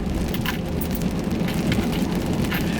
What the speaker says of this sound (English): Did you guys hear this rain outside?